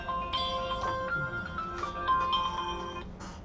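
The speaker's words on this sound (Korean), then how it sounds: "전화가 왔네요." A phone rings with an incoming call, playing a melodic electronic ringtone of repeating bright tones at moderate volume with no talking over it.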